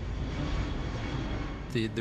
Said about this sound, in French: Les gens étaient fascinés par cet énorme avion qui approchait, en donnant l'impression qu'il ne bougeait plus et qu'il descendait doucement.